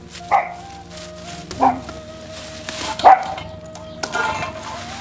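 Dogs on a hobby farm bark at feeding time: four short, separate barks spaced about a second apart, at moderate distance over a faint steady hum.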